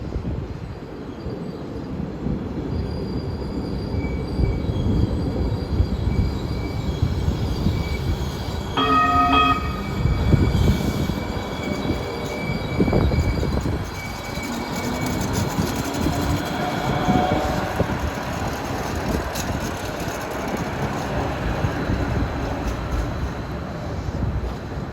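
A New Jersey Transit Hudson Bergen Light Rail train passes on a curve near Harborside, a long rumble of wheels on track that swells and fades. A brief tonal horn or bell sounds midway, and no one speaks.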